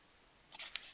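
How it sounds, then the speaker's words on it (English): A quick mechanical clatter of a Canon EOS 7D DSLR shutter and reflex mirror at a two-second exposure, a short burst followed by a sharp click, close and fairly quiet, with no speech. "I'll give you a look at the shutter actually working here"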